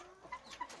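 A couple of short clucks come from hens in a chicken coop, faint and brief against a quiet background.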